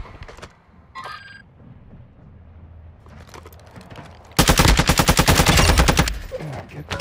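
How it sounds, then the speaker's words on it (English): Video game gunfire: scattered single shots and a short ringing tone give way to a loud, rapid automatic burst lasting nearly two seconds, with a few trailing shots after. "I'm being shot bad right now."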